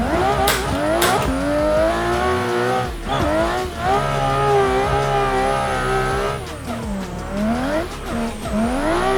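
BMW E92 car in the Assetto Corsa racing game, engine revving loudly through gear changes with rising and falling pitch and brief tyre squeal, continuous and close throughout.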